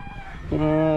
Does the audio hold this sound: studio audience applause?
no